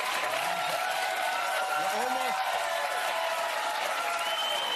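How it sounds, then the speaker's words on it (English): Studio audience applause on a late-night talk show: continuous, even crowd clapping with faint cheers, running steadily the whole time under a voice that talks over it. "the people getting paid to clap"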